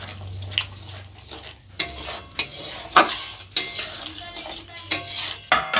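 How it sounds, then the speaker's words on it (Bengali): A spoon stirs butter mushroom curry in a pot on a lowered flame, with near scraping and clinking against the pot sides in irregular strokes, a faint simmer underneath and no talk. "খুলে মাঝে মাঝে এটা নেড়ে দিতে হবে যেন তলায় না ধরে যায়"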